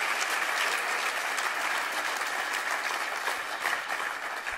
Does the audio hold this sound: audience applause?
yes